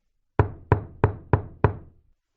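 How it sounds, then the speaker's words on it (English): Five firm knocks on a wooden door, evenly spaced about a third of a second apart, close and distinct with no talking. "He knocked on the door."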